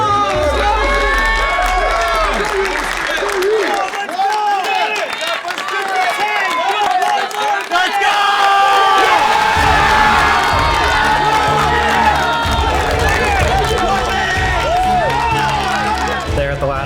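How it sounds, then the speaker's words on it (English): A loud gym crowd cheers, screams and chants continuously through the final minute of a hard group workout, with shouting voices and some clapping layered densely throughout, and the sound swells noticeably in the second half. "There at the last minute, everyone's screaming my name."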